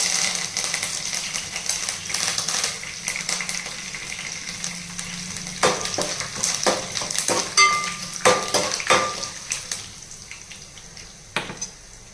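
Lentils and dried red chillies fry in a pan for a South Indian capsicum pulihora tempering, a steady close sizzle with scattered sharp pops and a few clinks of a stirring spoon partway through.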